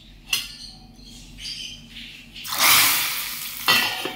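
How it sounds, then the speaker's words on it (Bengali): A hot tempering (chhonk) with dried red chilli pours into thin mung-masoor dal and bursts into a loud, sustained sizzle that fades and briefly flares again, after some quieter kitchen clatter. "এবার ছক দিয়ে নেব।"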